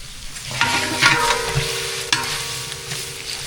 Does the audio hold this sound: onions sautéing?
yes